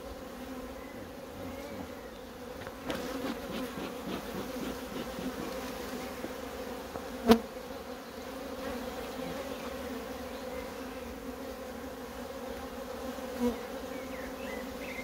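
A colony of black honey bees working at a hive in full production, a steady close drone of many buzzing wings with individual bees zipping past the microphone, no talking.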